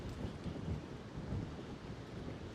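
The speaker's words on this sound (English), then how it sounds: "Again, it's very windy." Strong wind at Charlestown, Cornwall, roars and buffets the microphone in a steady rumbling gust, swelling and easing slightly, with no talking.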